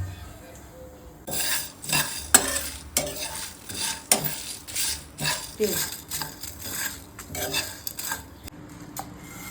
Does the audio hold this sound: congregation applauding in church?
no